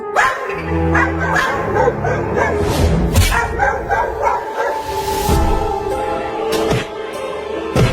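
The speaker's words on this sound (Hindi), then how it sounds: "ये कुत्ते उस लकड़ी के घर के सामने भौंक रहे हैं।" Several dogs bark loudly and repeatedly nearby in front of a wooden house, overlapping yips and woofs mixed with a whimper, continuing throughout without pause.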